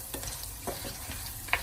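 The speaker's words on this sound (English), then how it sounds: "So let's mix the curry in with our fried onions," A spoon stirs curry paste through fried onions, chili and garlic in a hot pan, the steady scraping and stirring running over a continuous sizzle of frying, with a sharper clink near the end.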